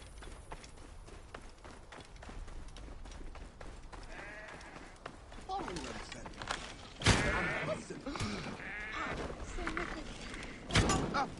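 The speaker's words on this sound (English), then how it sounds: "Attack of the goats." Goats bleat several times amid scuffling and thumping game sounds in Assassin's Creed Origins, with people talking over the noise.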